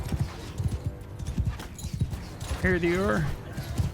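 Rapid hoof clip-clops of horses in the medieval combat game Mount & Blade 2: Bannerlord, close and rhythmic, with a loud neigh partway through and a voice speaking briefly over them.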